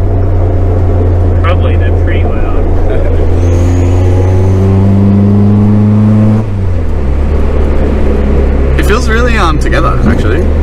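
A Toyota AE71 with a 4AG engine drives along, its engine droning loud and close as revs climb steadily, drop at a gear change, then build again, with voices talking briefly near the end.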